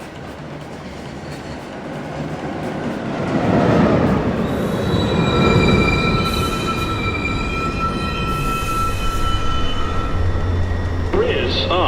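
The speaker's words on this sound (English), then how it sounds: "Downtown Local 1 train. Approaching the station, please stand away from the platform edge" An NYC Subway R62A 1 train pulls into a station with a rising rumble, loud wheel squeal in sustained high tones and rattling rail noise, growing nearer and louder midway, with a brief voice near the end.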